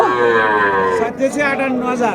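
A Friesian cow at a village cattle market gives a loud, close, drawn-out moo lasting about two seconds, with faint market chatter behind.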